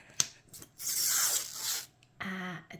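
Protective backing peeled off an item, a brief crackling, sticky tearing sound lasting about a second, quiet and close, followed by a short vocal sound.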